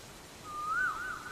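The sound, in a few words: koel (cuckoo) calling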